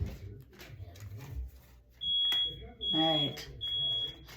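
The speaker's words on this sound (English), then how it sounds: "There goes that fucking alarm." A smoke alarm set off by burnt cooking beeps in loud, piercing bursts nearby, with a person speaking briefly in the room.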